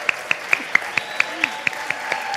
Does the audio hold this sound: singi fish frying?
no